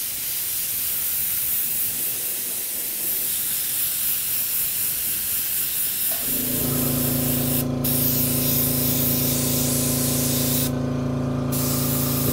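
An airbrush sprays light brown paint onto a model horse. A soft hiss runs for several seconds, then the spray turns steadier and louder with a faint mechanical hum underneath, and no talking.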